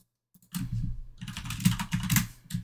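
Rapid keystrokes clatter on a computer keyboard as a git clone command is typed, a steady run of close, fairly loud clicks after a brief silent start.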